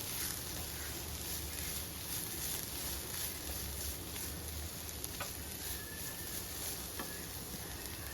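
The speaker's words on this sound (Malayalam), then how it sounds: "ഇനി നന്നായിട്ടൊന്ന് ഇളക്കാം" Cabbage frying in a pan for a Kerala-style stir-fry, a steady quiet sizzle with faint clicks of stirring, continuous throughout with no talking.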